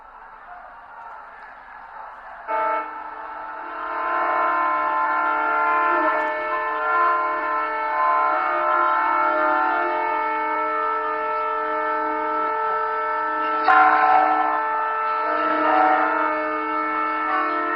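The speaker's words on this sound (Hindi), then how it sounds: "पीएम ने अमृत भारत एक्सप्रेस ट्रेन सहित 4 नई ट्रेनों को हरी झंडी दिखाकर रवाना किया" The new Amrit Bharat Express train is flagged off and departs, sounding a long, loud, sustained multi-tone horn that holds steady for many seconds with a brief surge near the end.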